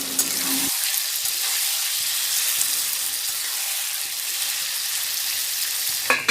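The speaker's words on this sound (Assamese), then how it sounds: "এয়া মাংসখিনি তেলত দি দিম এতিয়া লৰাই দিম" Spiced mutton hisses in hot oil as it is stirred, a dense continuous sizzle with soft scraping touches, close and without speech.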